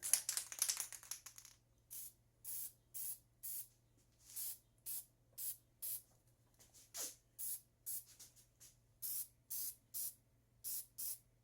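A spray can of primer coating the top of a tool handle, a burst of hiss followed by a long series of short, evenly timed spray puffs, close and fairly quiet over a faint steady hum.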